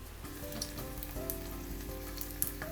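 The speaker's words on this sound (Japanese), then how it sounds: "ニンニク潰したものをこれふつふついってきたので" Crushed garlic bubbles gently in oil in a pan, a soft, faint, steady sizzle with a few small pops, close and alone.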